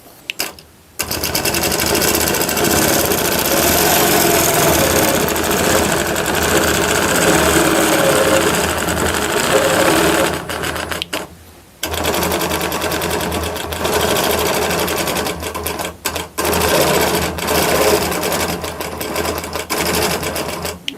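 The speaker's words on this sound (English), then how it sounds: "I like to start at the top, give it a couple lock stitches, and then I will go down towards the bottom and then fill in." A longarm quilting machine stitches leafy fern filler, its loud steady mechanical whir running continuously with two brief pauses where the needle stops and restarts.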